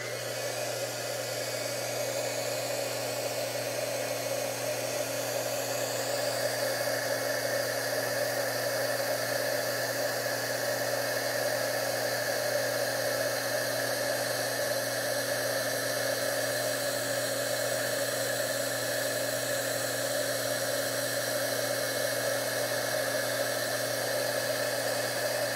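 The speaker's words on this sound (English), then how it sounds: "let's bring again the heat tool. It's gonna get loud again." A heat tool blows hot air over a handmade card during sponging work, giving a loud, steady, close whooshing drone with a constant motor hum that runs unbroken throughout, with no talking.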